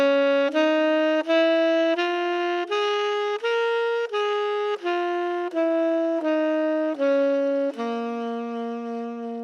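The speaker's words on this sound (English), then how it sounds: "people call that the blues scale" A blues scale played on a sustained melodic instrument, about a dozen clean, separate notes rising and then falling in even steps, clear and close with no talking.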